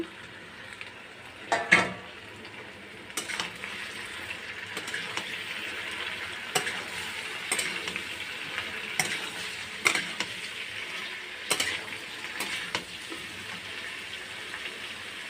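Ridge gourd and potatoes frying in a pan, a constant soft sizzle with occasional clinks and scrapes of a spatula stirring, no voices over it.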